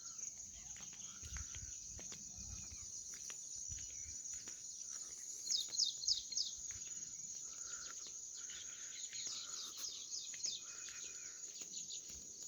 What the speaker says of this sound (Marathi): वेगवेगळ्या पक्ष्यांचे आवाज खूप